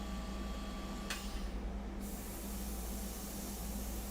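An airbrush sprays India ink for a fine-art portrait in a steady, close pneumatic hiss that runs unbroken throughout, with one sharper burst near the start, and no voices.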